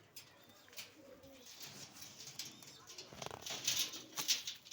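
Pigeons coo softly and fairly far off, low repeated calls mixed with brief wing flutters and rustling, while someone talks nearby.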